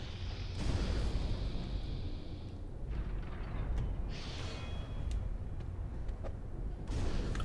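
Fire bomb explosions in Dark Souls Remastered: deep booming bursts with a rumbling low end and crackling flame hiss, several blasts spread across the stretch over a steady game ambience, with no talking.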